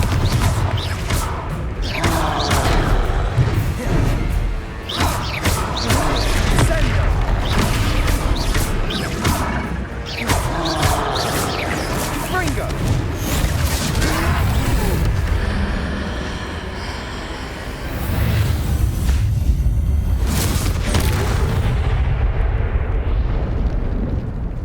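Repeated Confringo blasting-curse explosions in Hogwarts Legacy, a dense run of loud booming blasts and crashing bursts over about 25 seconds, with a brief quieter lull in the middle before the barrage resumes.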